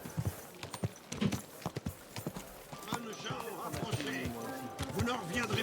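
Horse hooves clip-clop in a medieval video game, a run of sharp, close hoofbeats that start out distinct and become denser, while characters speak French over them.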